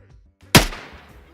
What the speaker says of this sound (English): I'm going to shoot Lance in the leg.